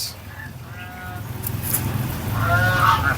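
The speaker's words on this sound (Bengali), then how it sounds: "সাদা রঙের রাজহাঁসগুলিকে দেখুন কি সুন্দর খুব সুন্দর" White domestic geese honking at a village home, a few nasal calls near the start and a louder cluster toward the end over steady outdoor background noise.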